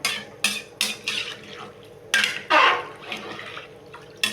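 Rice and water being stirred in a cooking pot for Tamil lentil rice, giving repeated distinct scraping, sloshing strokes at an irregular rhythm, close and fairly loud, with no talk.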